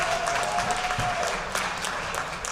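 Crowd applause at a fall athletic banquet honoring a boys varsity soccer team and its coach, steady mid-level clapping throughout with a faint tonal hum beneath.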